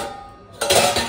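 Kitchen pots and dishes clatter as a child handles them in a home kitchen, a quiet stretch followed by a burst of close, bright metallic clanking and rattling.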